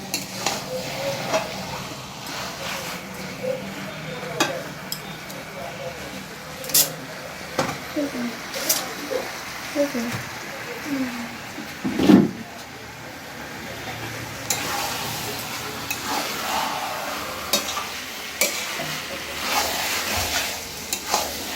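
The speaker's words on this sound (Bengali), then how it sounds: "1/2 ঘন্টার মতো এটাকে কষতে হবে ভালো করে, 1/2 ঘন্টার বেশিও কষা যায়" Chicken is stir-fried in spices in a pan for Bengali kosha, a steady soft sizzle broken by scraping stirs and clinks of a spatula, while someone talks over it.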